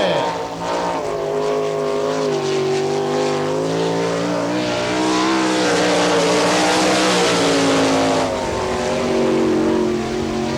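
An NCRA All Stars sprint race car, the 8J, runs hard on a dirt oval at Wichita, Kansas, in 1998: a loud, continuous, close engine roar with rising and falling pitch as it powers through the lap, alone without talk.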